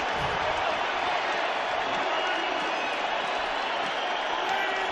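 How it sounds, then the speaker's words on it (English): A stadium crowd at a Chiefs versus Raiders NFL game in Las Vegas roars and cheers in a steady, dense wash of noise that holds throughout, with no single standout burst. "Crowd getting into it here in Vegas."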